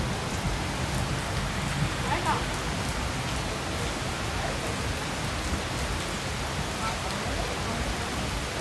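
Steady rain pours down outdoors over an aquarium pond in Singapore, a dense, even hiss of drops on water and surfaces that stays loud and unbroken throughout.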